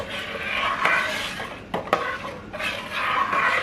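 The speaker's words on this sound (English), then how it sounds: "Now I'm just going to stir it." A spoon scrapes and clinks against a cooking pot while egusi soup is stirred, with steady scraping and a few sharper metallic knocks, close and clear.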